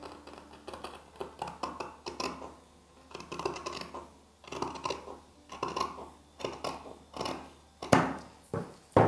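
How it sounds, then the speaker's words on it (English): Scissors cutting fabric along a curved line for a traditional Iro and Buba garment, a close series of soft snipping and sliding blade sounds in short repeated bursts, with paper or cloth rustling and no talking. "then just cut along the curve line"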